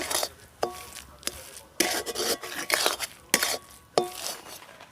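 Coconut mixture for Bengali narkel naru being stirred in a pan, with repeated scraping strokes and clinks of a spoon against metal in an uneven rhythm, close and moderately loud, no talking.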